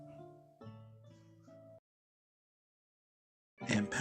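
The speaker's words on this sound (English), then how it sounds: "that is a cat you're hearing. I have an 8-month-old kitten who is very vocal at night." A kitten gives a few short, tonal meows in quick succession, then falls silent before a brief noisy burst at the end.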